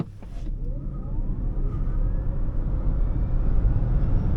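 2023 Hyundai Ioniq 5 electric car accelerating hard in normal mode, a brief clunk at the start, then a rising motor whine over a steadily building road and wind rush, heard from inside the cabin.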